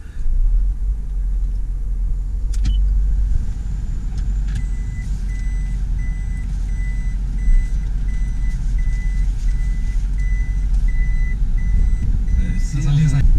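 A hybrid car starts and drives, giving a steady low interior rumble with a faint high electronic tone and repeating beeps above it, continuous throughout.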